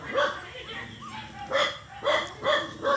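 Dog guarding pigs, barking in a run of four or five sharp, close barks spaced roughly half a second to a second apart, with a brief whine between them.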